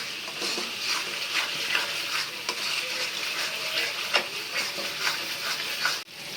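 Spices frying with ground peanut paste in oil for lotpoti, a continuous crackling sizzle with rhythmic stirring scrapes, close and steady, ending in a single knock of a utensil against the pot.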